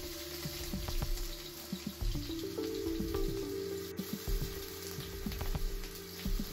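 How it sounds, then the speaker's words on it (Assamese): Sliced onion frying in hot oil in a wok-style kadai gives a steady, close sizzle with fine crackles and pops throughout, no voices. "তেল গৰম হলে তাতে মই এই পিয়াজ দি দিছো পিয়াজটো অলপমান ভাজি লম"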